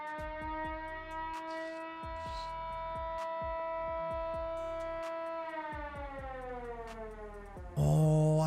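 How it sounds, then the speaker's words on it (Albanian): Police siren in the video game Schedule 1, a steady wailing tone with intermittent clicks, fairly faint and sustained, ending with a sudden louder burst of game sound. "Sirena policis."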